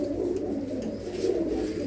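A female pigeon coos inside a loft compartment in a village near Amritsar, her low rolling notes repeating closely and continuously with no voices over them.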